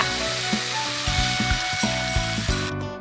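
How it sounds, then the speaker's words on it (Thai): Egg and vegetable pancake batter sizzles loudly in a hot pan lightly oiled with rice bran oil, a steady frying crackle with faint clinks and taps. "เทส่วนผสมทั้งหมดลงกระทะ"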